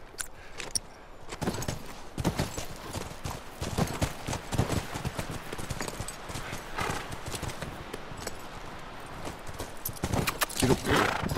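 Rapid clip-clop of horse hooves on a hard surface in the video game The Last of Us Remastered, steady and close, with occasional snorts and whinnies mixed in.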